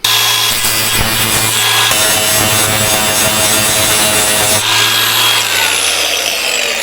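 Weld material is ground back layer by layer on the body panel of a VW Beetle, a loud, close, continuous abrasive rasping with shifting tone as the pressure changes, and no voices.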